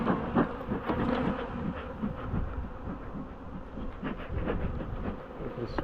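Aggressive honey bees buzz during a hive inspection at a farm apiary, with smoke in the air. A steady, close, droning hum holds throughout, with occasional louder passes as individual bees fly near.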